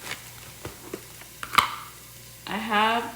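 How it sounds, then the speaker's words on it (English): Mushrooms being tossed into a hot stir-fry pan of vegetables, a few scattered taps and clinks followed by a sudden rising sizzle as they hit the oil, close and moderately loud. "And I'm gonna toss my mushrooms."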